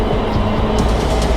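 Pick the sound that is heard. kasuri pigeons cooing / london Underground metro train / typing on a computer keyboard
london Underground metro train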